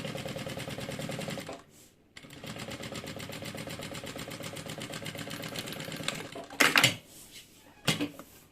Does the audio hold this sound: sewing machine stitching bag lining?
yes